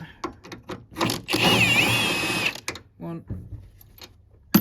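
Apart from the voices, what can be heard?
Milwaukee power drill driving engine mount bolts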